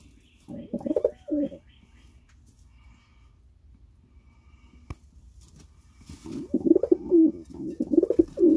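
Pigeons in a loft coo and squabble over a nest, two close bursts of low throaty cooing separated by a quiet pause, the second burst longer and more agitated.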